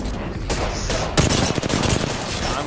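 Rapid gunfire bursts in the Apex Legends video game crackle up close and loud, several overlapping volleys with sharp impacts following one another over a few seconds, with no talk.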